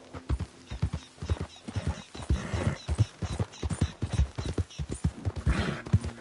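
Horse hooves clip-clop in a steady, close rhythm in a PS4 video game, with a brief whinny and other game noise mixed in.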